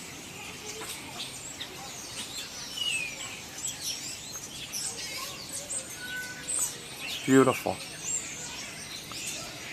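Many birds singing in trees around a wire where a large flock perches, with scattered chirps and tweets over a soft outdoor background and a brief spoken comment.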